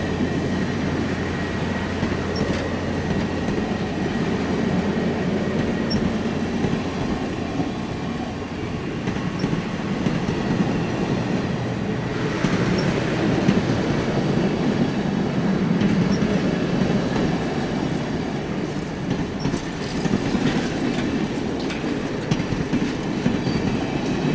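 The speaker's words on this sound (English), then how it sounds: "The train picks up speed as the last several cars go through the crossing." A train rolls steadily through a crossing at close range, picking up speed, wheels clattering over the rails in a continuous rumble with occasional metallic squeals, no voices.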